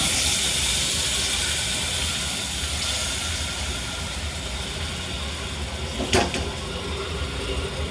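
Onions sautéing in a pan for a village-style mutton curry, a steady broad hiss and sizzle with a low rumble beneath, constant throughout with one brief sharper clatter near the end, no voices.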